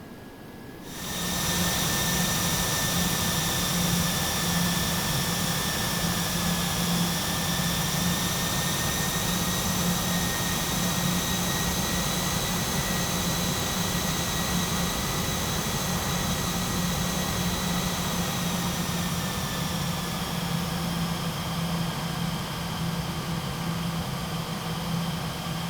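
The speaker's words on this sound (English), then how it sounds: "I'm going to use the inboard engines more so than the outboards to taxi with" A simulated DC-8 jairliner taxis on its inboard engines, giving a loud, steady jet roar and whine with a constant low hum and high tonal lines that drift slightly, alone without talk for the whole stretch.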